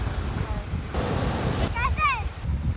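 Ocean waves wash in on a shore in a rushing hiss that swells and recedes, with wind buffeting the microphone and brief high birdlike chirps or squeals partway through.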